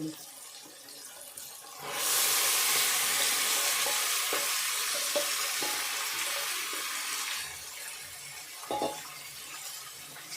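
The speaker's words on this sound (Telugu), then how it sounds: "ఫస్టే కలిపి పెట్టుకున్న చికెన్ ఉంది కదా ఈ చికెన్ ఇందులో వేసుకోవాలి" Marinated chicken drops into a hot pan and bursts into a loud, steady sizzle that holds for several seconds before easing, with a few light clinks of stirring.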